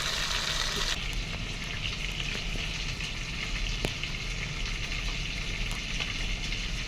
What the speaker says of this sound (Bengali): তেজপাতাই দিয়ে দিচ্ছি সাদা তেল অল্প করে